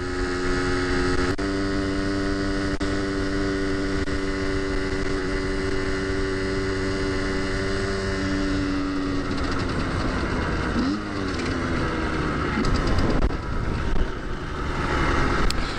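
Small 50cc motorcycle engine running steadily through fifth gear while climbing, a continuous droning buzz with shifting pitch and a brief revving change near the end, loud and close, no talking.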